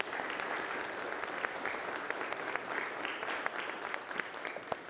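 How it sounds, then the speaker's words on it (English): A church congregation gives moderate applause for the children who sang during Sunday worship, with steady clapping and distinct individual claps standing out over a few seconds. "Can we have another round of applause for all of our children who sang?"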